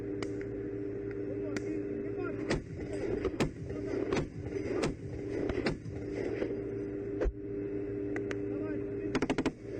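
An M2 Bradley's 7.62 mm machine gun fires in combat as a string of sharp, irregularly spaced shots over a steady engine rumble, with a closing flurry of rapid bursts.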